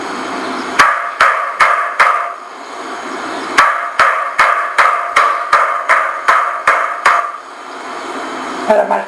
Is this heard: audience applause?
no